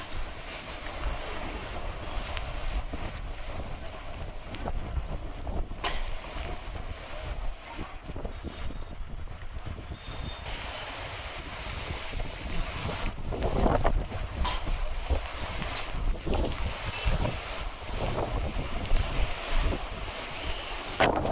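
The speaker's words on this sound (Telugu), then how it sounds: "వర్షం స్టార్ట్ అయినా కానీ గాలి అయితే బంద వసక పడుతుంది గాలి మాత్రం మామూలుగా వస్తలేదు" Strong wind roars and buffets the microphone in uneven gusts during a Hyderabad rainstorm, with a watery, surf-like rush underneath and no talking.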